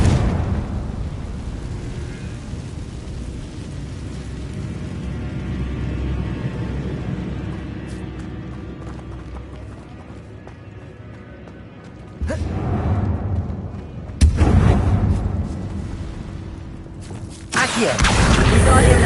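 Confringo fire spells blast in Hogwarts Legacy, a rolling low rumble followed by several loud explosive bursts in a row, each one abrupt and booming.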